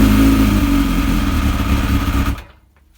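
A Kawasaki ZX7R motorcycle engine runs loud and close on a cold start-up, holding a rough, steady drone before cutting off abruptly near the end, with no talk.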